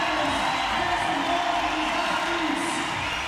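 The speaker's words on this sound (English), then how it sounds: "And Magawa, this crowd trying to get behind the 19-year-old." A crowd at the 2018 CrossFit European Regionals, final women's heat of the Linda workout, cheers and roars steadily in a big arena, a continuous loud wash of voices with no pauses.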